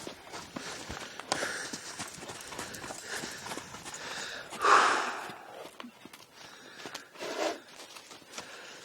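Horse hooves walk and trot over a soft arena surface, the steady clip-clop fairly quiet with some background noise and a brief louder rustle partway through.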